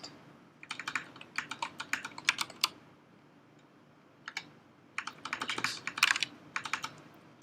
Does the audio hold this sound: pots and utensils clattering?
no